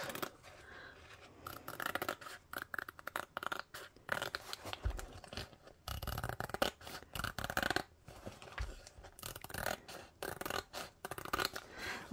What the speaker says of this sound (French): Je vais couper à ras, à la couleur rose.